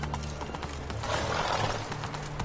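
Roach, the horse in The Witcher 3, gallops in a rapid clip-clop of hooves under a steady in-game ambient wash. The hoofbeats sound close and fairly quiet, with no talk.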